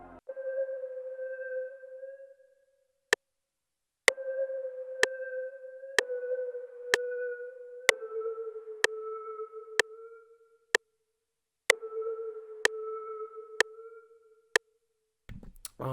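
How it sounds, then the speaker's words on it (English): A one-shot sample from the CUBEATZ sample bank: sustained tonal, pad-like notes in a steady sequence, punctuated by sharp bright clicks at irregular intervals, playing alone with no voices. "After that, I added this one shot from CUBEATZ Bank."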